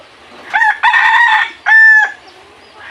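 A rooster crows loudly nearby in a few harmonic bursts, the last call long and sustained, with no talking.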